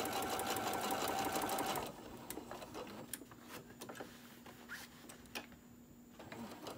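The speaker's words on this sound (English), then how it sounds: "So I'm going to go a little bit slower so I can get this sewed down." A sewing machine stitching a fabric koozie runs fast and loud at first, then slows to sparse, separate ticking stitches at low volume.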